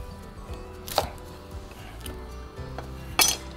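Knife cutting skinned onions thinly on a board in a home kitchen: two sharp chopping knocks roughly two seconds apart, with faint kitchen clinks and low background hum between them, no talk.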